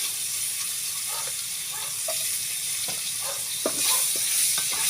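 Onions sizzle in hot oil in a pan just used for frying fish, a constant bright hiss with occasional stirring scrapes and pops close by.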